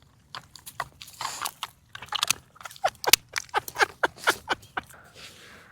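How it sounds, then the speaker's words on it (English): Dogs chew and crunch on pecans nearby, a rapid irregular series of sharp cracking bites and crunches at moderate loudness against a quiet outdoor background. "I got a bunch of dogs in the background eating pecans."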